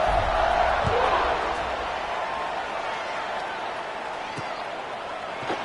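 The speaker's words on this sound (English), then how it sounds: "this crowd is buzzing after that last score" A stadium crowd in College Football 26 buzzes with a steady broad roar, loud at first and easing slightly, with a commentator's voice over it.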